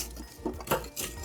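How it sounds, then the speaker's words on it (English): Charcoal briquettes pushed to one side of a grill before a tomahawk steak cook, giving a brief, close clatter of a few hard clinks and scrapes. "So I'm just gonna bank all my charcoal to one side like this"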